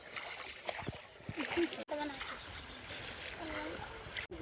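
Water splashes and sloshes against a boat moving on the Matavanga River while people talk nearby, with a couple of sharp knocks breaking the flow.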